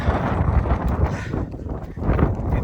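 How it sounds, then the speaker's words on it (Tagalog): Strong wind roars and buffets against the microphone in continuous gusts on Mt. Fuji, a loud rushing noise with no voices. "Medyo malakas na yung hangin."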